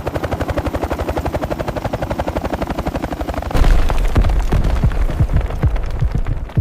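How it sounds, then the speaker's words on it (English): Helicopter descending on a low attack run, a fast rhythmic rotor thump that gives way to a dense burst of heavy gunfire and booming blasts, loud and close. "The helicopter descended lower than any previous attack run."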